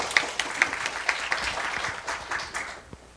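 Applause from the audience at a school youth climate-justice presentation in a hall, a steady spread of hand clapping lasting about three seconds and fading toward the end.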